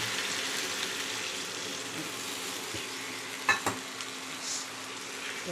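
Mixed vegetable curry with shrimp bubbling in a pan after water is added, a steady close sizzle and simmer with a couple of brief clinks of a spoon against the pan.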